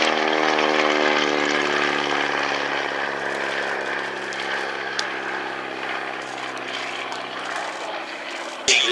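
A loud vintage Stieglitz propeller aircraft drones overhead at Old Warden, its engine tone steady and rich before slowly fading as it passes, with no voices.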